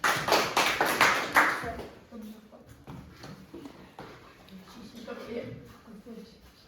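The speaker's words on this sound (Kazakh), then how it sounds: "Ал қол шапалақтайық." A seventh-grade art class gives a quick round of rhythmic hand claps for about two seconds, loud and close, followed by quieter classroom talk.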